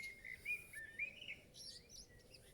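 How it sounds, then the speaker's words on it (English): A blackbird or starling sings outdoors, fluting warbled phrases and quick chirps repeating over several seconds. The bird sounds faint and somewhat distant against a low background rumble. "it's a blackbird or a starling"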